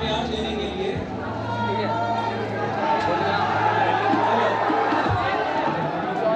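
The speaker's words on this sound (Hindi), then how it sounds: "भाई देख रहे हो, ये सब पूरी भीड़ मुन्ना भाई के लिए है।" A large crowd gathered outdoors fills the scene with a dense, continuous murmur of chatter, while someone talks over it close by.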